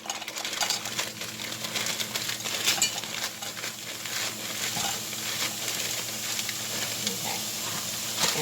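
Frozen cut vegetables, including okra in a seasoning blend, cook in a dry pan without oil, giving a soft continuous sizzle and hiss with faint scattered crackles close by.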